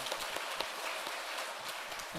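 During a Sunday worship service, a congregation claps in welcome for a visiting missionary. The applause sounds soft and distant, a light patter of many hands, with a voice coming in at the end.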